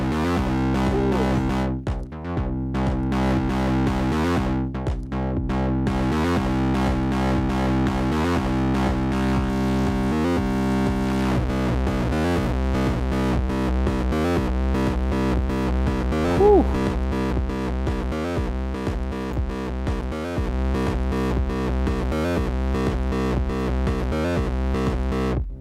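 A sustained, buzzing synthesizer tone through a clipper distortion effect on a Novation Circuit Tracks, with harsh distorted overtones playing continuously, small rhythmic pulses and pitch shifts throughout.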